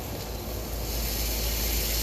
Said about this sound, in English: Hear the nice sizzle.